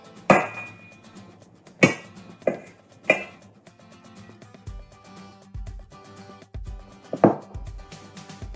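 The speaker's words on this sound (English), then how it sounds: "I'm gonna cut the butter up in slices" A knife cuts through butter into slices on a board, giving five or six sharp, separate knocks of blade against the hard surface at irregular intervals, with quiet low thumps between them.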